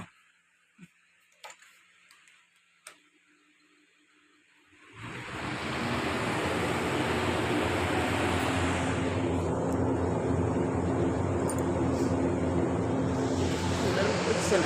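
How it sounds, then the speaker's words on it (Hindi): A household air cooler switches on partway through and keeps up a loud, steady whooshing roar of fan and air, drowning out the quieter room sounds and a few faint clicks heard before it starts. "कूलर में कुछ सुनाई नहीं देगा अब।"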